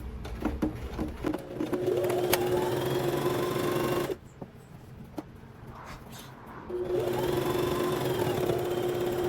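A home sewing machine stitches a Butterick 6296 pajama set in two fast, steady humming runs, with a brief quieter pause between them full of small clicks and handling noises.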